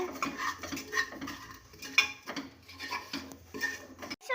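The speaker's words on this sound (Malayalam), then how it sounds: "ഗ്യാസ് വെച്ചിട്ടുണ്ട് മസാലയെല്ലാം നല്ലോണം വരട്ടി എടുക്കുന്നുണ്ട്" A spoon stirs and scrapes masala with coriander powder as it roasts in a pan on a gas stove for beef curry. The metallic clatter is steady and close, with no voices.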